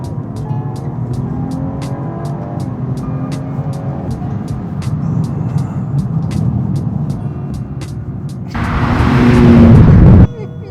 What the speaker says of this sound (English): right at the top end of the rev range, you do get a little bit of popping and banging